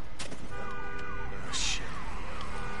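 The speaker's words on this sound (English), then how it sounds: "There's gonna be more people and another car alarm." Car alarm in the video game Days Gone, sounding as a repeating pattern of falling electronic whoops, steady and fairly loud, with brief sharp noises mixed in.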